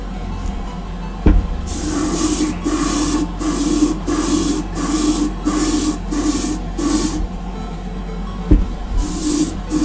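An airbrush hisses out base coat onto Greek-style vases, spraying toward a fan air filter in about a dozen short, even bursts with brief gaps, close and fairly loud.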